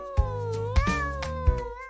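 Cartoon kittens meow in a string of long, gliding, overlapping cries, loud and close, with soft rhythmic thumps of background music underneath.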